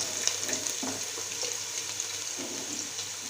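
Sliced garlic, ginger and split green chillies sauté in a pan for a chicken stew, giving a steady hissing sizzle with faint intermittent stirring clicks, close and moderately quiet.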